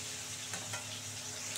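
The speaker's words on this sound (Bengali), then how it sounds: "এটা এবার লাল করে ভাজবো আলুটাকে" Potatoes frying in oil in a pan until browned, a quiet even sizzle with a couple of faint stirring scrapes, no voices.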